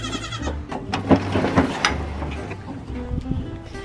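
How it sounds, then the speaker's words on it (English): Several goats bleat close by in overlapping, wavering cries amid shuffling and rustling, with a few distinct calls rising above the noise. "Kevin, is there a reason why you put 20 goats in this stall and 1 chubby Tilly in this stall?"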